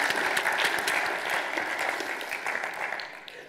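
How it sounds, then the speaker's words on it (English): Applause from the audience at a co-operative congress on youth voice, a lively burst of many hands clapping that stays strong at first, then thins and fades toward the end. "Round of applause for Jasmine."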